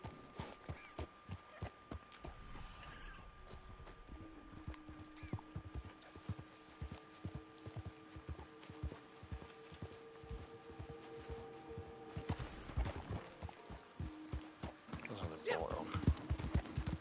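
Horse hooves clip-clop in Red Dead Online, a steady run of soft, close hoofbeats lasting throughout with a few sustained tones, while a voice talks over them.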